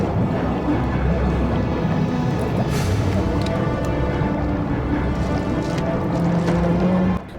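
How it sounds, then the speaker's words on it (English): A car sinks and fills with water in the film Hellraiser: Hellseeker, with a continuous churning, gurgling rush of water and muffled underwater rumbling that stays loud throughout before cutting off abruptly at the end. "the car fills up with water"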